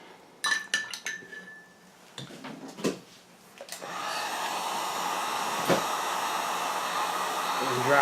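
A hair dryer blows steadily over a watercolor painting, a loud continuous whoosh that starts partway through after a few clinks and clatters of utensils being handled nearby.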